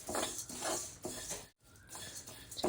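Grains dry-roasting in a pan for laddu, with a continuous close scraping and stirring rustle broken by repeated brief bursts of grains shifting against the metal, pausing once for a moment before resuming.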